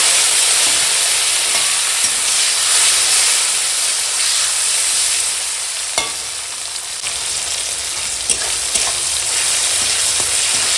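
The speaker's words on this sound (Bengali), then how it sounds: "টমেটোটা ফোড়নের সঙ্গে একটু ভেজে নিচ্ছি" Chopped tomato sizzling loudly in hot oil with black cumin and green chilli, a dense constant hiss and spatter right up close, with occasional utensil taps.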